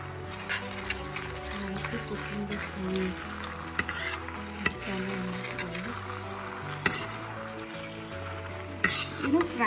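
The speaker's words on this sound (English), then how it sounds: "frying masala or any of these kind of a paste in oil" Garlic and chili masala paste frying in hot oil for an Indian snake bean dish, a continuous close sizzle with occasional stirring clatter from a utensil against the pan.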